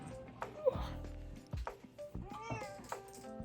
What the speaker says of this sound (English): My cat Ryoko's meowing at me.